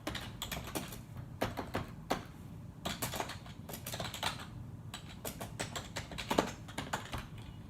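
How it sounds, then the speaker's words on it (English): Rapid, uneven keystrokes clatter on a computer keyboard in a quiet room, with bursts of quick typing, short pauses and a few harder key taps, close and alone with no voices. "Here, I'll type that in there myself."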